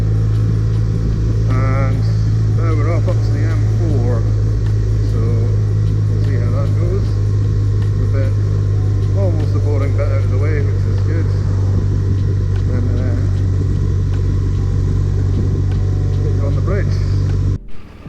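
A motorcycle heading up toward the M4 on the way to the Dragon Rally, its engine droning steadily and loud throughout as wind rushes past, with a rider talking over the noise.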